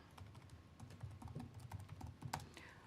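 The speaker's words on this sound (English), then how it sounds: "Give me a second while I'm typing all of this." Computer keyboard typing at a city council meeting in York, a steady run of quiet, close key clicks over soft room hum, no voices over it.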